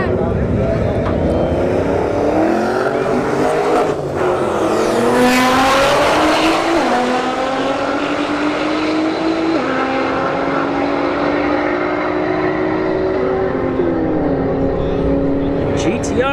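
A Camaro SS and a Nissan GTR launch side by side at a drag strip, engines screaming loudly as they climb through a series of gear shifts and fade with distance. A tire chirp comes at the start, with commentary audible over the noise.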